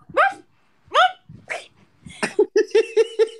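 A man imitates a dog barking with his voice, starting with a few separate barks and then a quick rhythmic run of loud, close woofs.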